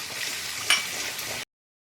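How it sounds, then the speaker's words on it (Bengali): Water splashed into spice masala frying in hot oil for a paneer and yogurt curry sets off a sudden loud sizzle, a sharp burst of hissing that settles into a steady crackle before cutting off. "এবার আমি এই জারটা ধুয়ে একটু জল দিয়ে দিলাম"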